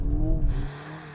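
A brief, loud rumble comes from a Mercedes-AMG A45 S engine running sideways during a drag race against rival hot hatches, its tone sliding lower and fading within about a second.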